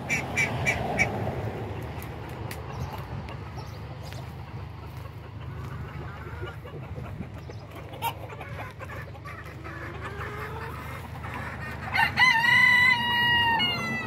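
Backyard chickens and other fowl in their enclosure cluck and quack over a low outdoor hum, and a rooster crows clearly near the end.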